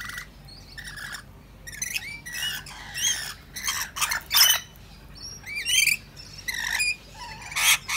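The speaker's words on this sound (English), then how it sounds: "normally the parrots are in to feed" Parrots let out sharp squawks and shrill calls in irregular bursts at a garden feeding spot, some loud and close, with brief quiet gaps between them.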